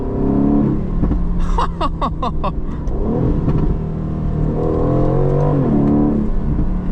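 An Aston Martin Vantage's exhaust burbles and crackles off throttle, with rapid popping bursts over a steady engine drone, loud and close.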